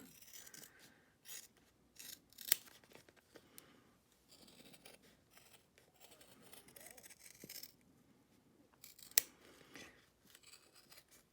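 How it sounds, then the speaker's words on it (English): Scissors hand-cutting around an embroidered puffy burnout fob, soft close snips and rasping slides of the blades through fabric, quiet and intermittent, with a couple of sharper clicks. "watching me hand cut a fob"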